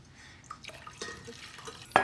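Two cups of water poured for miso soup give soft splashes and drips into a pot, ending in a louder splash; quiet and close, with no talk.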